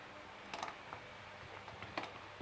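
Light typing on a computer keyboard during a spreadsheet session, a few soft scattered keystrokes in two small clusters over a quiet background hum.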